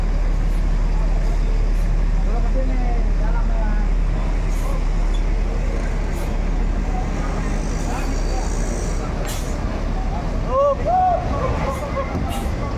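A Jetbus 3 MHD coach pulls away from Kampung Rambutan bus terminal, its steady engine drone and traffic rumble continuous and loud, with crowd babble and voices talking over it.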